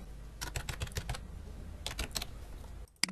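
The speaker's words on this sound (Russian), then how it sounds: "Вводим свой пароль." Password typed on a computer keyboard, two quick bursts of soft key clicks separated by a short pause, close and quiet, ending in a sharper final keypress.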